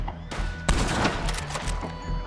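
Gunfire in the Western video game Red Dead Online: a loud burst of overlapping shots with sharp broadband cracks, one heavy blast near the middle and ringing echoes between, no talking.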